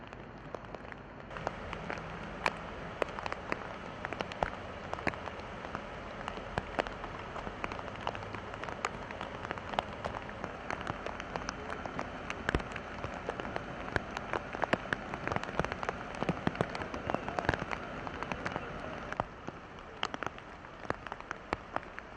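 Heavy rain downpour during an evening storm, a dense continuous hiss of drops hammering surfaces with scattered sharper spatters, steady and close throughout, with no talk.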